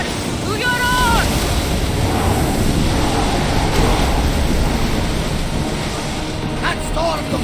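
A stormy sea rages around a rowed ship in the video game Assassin's Creed Odyssey, a loud, continuous roar of wind, waves and rain with brief tonal calls at the start and end and speech present.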